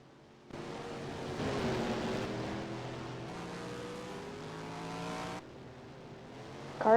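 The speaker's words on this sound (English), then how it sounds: "Car is pulling into pit road." Stock car engine in NASCAR Racing 2003, a loud sustained roar with rising and falling revs as the car slows, then a sharp drop and a fresh rev at the end; no talk.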